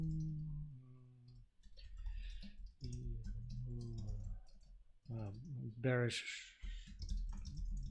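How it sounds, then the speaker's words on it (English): Quiet clicks of typing on a computer keyboard run under a man's close, conversational speech. "typing."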